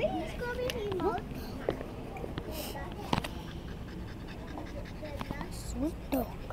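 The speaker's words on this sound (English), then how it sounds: "Sweet dog." A dog pants close by in quick rhythmic breaths, mixed with scratching movement while someone talks over it.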